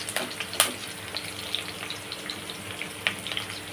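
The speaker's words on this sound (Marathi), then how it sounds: "कढीपत्ता टाकते टेस्टसाठी मस्त वास येतो कढीपत्त्याचा" Curry leaves crackle and sizzle in hot oil in a home kitchen, a faint scatter of small pops and hiss over a low background, with no talking.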